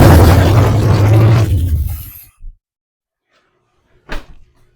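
A 1982 Chevy pickup engine, left sitting for three years, fires and runs roughly and loudly for about two seconds before dying, followed by a brief thump and a short faint burst a moment later.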